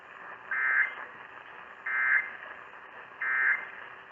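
Emergency Alert System alert tone: three identical harsh buzzing bursts, each about a third of a second, evenly spaced over a low background hum.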